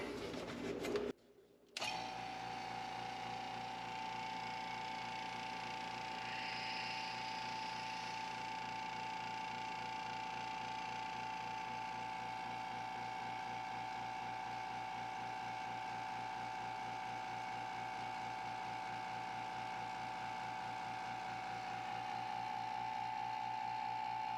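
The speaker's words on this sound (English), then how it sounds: "We'll go ahead and turn on the pump, close the valve, get the vacuum" A vacuum pump runs steadily to degas resin around pieces of wood, a continuous mechanical drone with a fast rhythmic ticking pulse, briefly interrupted near the start, then holding level and alone for the rest.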